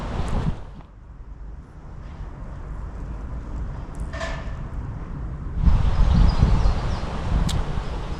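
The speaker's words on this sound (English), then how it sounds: "A little bit windy. A little bit windy." Steady low rumbling wind buffeting an unshielded microphone outdoors on Church Street in Ewell, Surrey, swelling stronger toward the end, with no voices.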